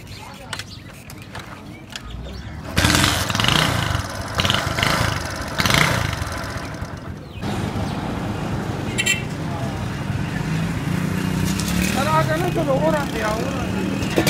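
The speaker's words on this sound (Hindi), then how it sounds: "बाइक पर मैं जाऊँगा" A motorcycle engine runs and idles nearby, a rough steady rumble that grows louder partway through, while people talk over it at times.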